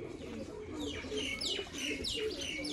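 Pigeons cooing close by in a loft, a few rolling coos repeating over soft chirps, with no talk.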